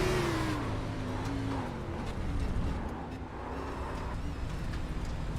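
A race car engine in a racing simulator game at Kentucky Speedway, revving hard as the driver stays on the throttle in the grass; loud, continuous engine drone with a falling then steady pitch, no voices.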